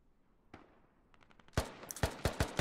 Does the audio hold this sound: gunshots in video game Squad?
yes